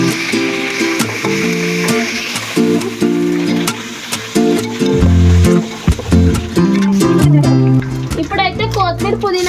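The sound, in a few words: ginger paste frying in tempering for bagara rice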